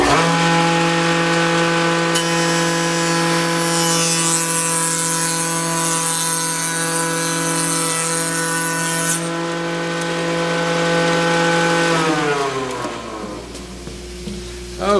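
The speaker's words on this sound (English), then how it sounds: "now we'll cut the profile on this plywood" A router with a profile bit cuts into plywood for a fish tank cabinet, a loud steady high-pitched motor whine with a harsher cutting scream in the middle, then winding down at the end.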